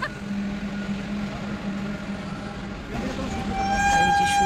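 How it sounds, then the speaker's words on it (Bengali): A goods train passes on a railway bridge near a flower fair at Khirai, giving a steady, fairly loud rolling rumble, with bright horn-like tones swelling toward the end. "ট্রেন যাচ্ছে মালগাড়ি।"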